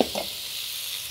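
Flat rice noodles stir-frying in a wok for char kway teow, a short scrape or two of the spatula at the start giving way to a steady close sizzle.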